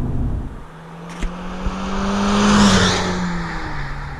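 A turbocharged Mazda MX-5 ND RF accelerates, its engine tone a steady, slowly rising hum that swells in loudness midway, with a couple of brief knocks along the way and no talking.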